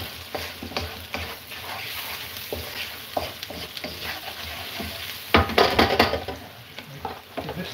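Onions with a pinch of salt cook in a pan for a Punjabi sarson ka saag meal, with a continuous sizzle and repeated stirring scrapes that grow louder near the end.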